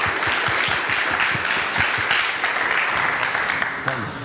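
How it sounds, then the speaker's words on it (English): Loud, sustained applause from a crowd at a hackathon awards ceremony, dense hand claps filling the room without pause, with a voice faintly audible underneath. "Please, an applause for Linus."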